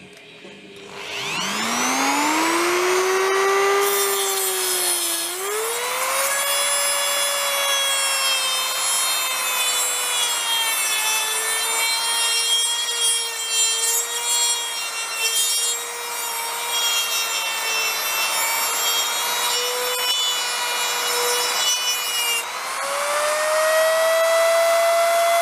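Abrasive disc on a rotary tool grinding down an old steel putty knife into a bushcraft knife, a loud sustained high whine that rises as the motor spins up, dips under load and climbs again near the end.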